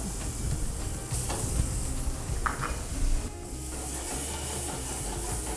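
Pork belly sautés in a hot pan with a steady, close sizzle and hiss, broken by a few soft scraping and stirring sounds.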